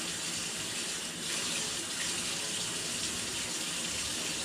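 Warm tap water runs steadily in a continuous, even hiss, close and fairly loud, with no voices over it.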